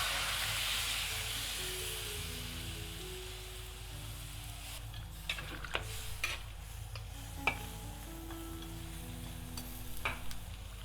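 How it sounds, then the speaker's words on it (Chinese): Winter bamboo shoots and mushrooms are tossed in a hot wok with a steady sizzle and hiss, while scattered scraping and clacking strokes of the stirring utensil grow more frequent in the second half. "双冬进锅，翻匀了"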